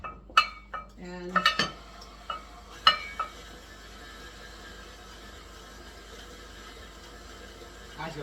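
A spoon scraping and clinking against a cooking pot while thick chile with ground lamb is stirred, with a few sharp metallic knocks early on, then a quieter steady stirring and faint sizzle with occasional speech.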